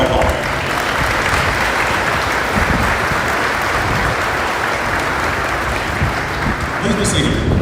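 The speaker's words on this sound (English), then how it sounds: "Another round of applause." Sustained, loud applause fills a graduation ceremony for a fire department recruit class after the national anthem, a dense steady wash of clapping from a large audience throughout.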